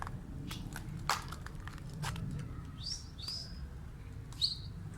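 A few bright bird chirps ring out near a rooftop pigeon loft of Çorum naked-neck pigeons, short and spaced, over a quiet, steady low background hum.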